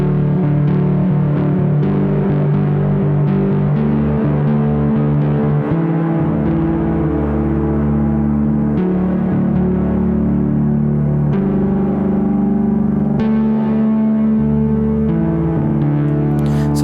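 An electric guitar plays a sustained lead line through a reverb pedal with drive added, thick distorted notes ringing into one another with long washy tails.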